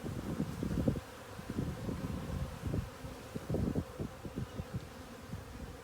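Honeybees buzz around a heavy, bee-covered hive top bar during an open-hive inspection, a close, continuous droning hum with fluctuating swells and faint rustling.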